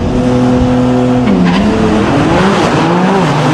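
Two Porsche 992 race cars, one yellow and one silver, launch hard off a drag-racing start line, engines roaring loud and close with rising revs and tires screeching as they pull away.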